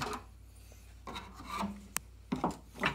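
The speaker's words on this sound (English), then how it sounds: "So I'm going to pop it out with a screwdriver." Screwdriver prying a plastic retainer clip out of the front bumper cover of a 1995 Pontiac Firebird, heard as close scraping and rasping scuffs in short bursts with a sharp click partway through.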